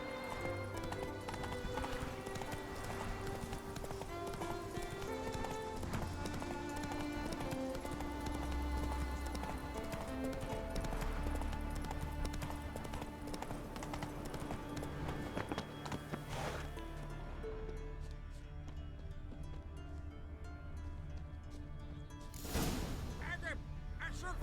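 Roach, the horse in The Witcher 3, gallops in a steady clip-clop of hooves beneath loud game music and voices, ending with a brief neigh-like burst.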